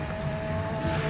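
A hillclimb race car passes through the speed trap, its engine a loud, close, sustained thunderous roar with a steady high whine for just over a second.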